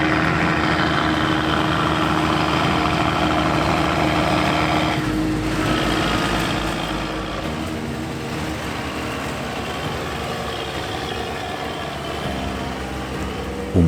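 Older, powerful Fendt tractors with MAN engines working alongside forage harvesters, a steady loud engine drone with a constant low hum that eases slightly midway and continues unbroken.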